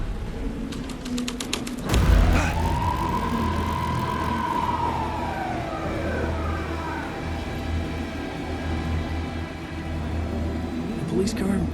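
A police car siren wails in Alan Wake 2, one long rising and falling sweep over a low rumbling night-time background, with voices talking over it.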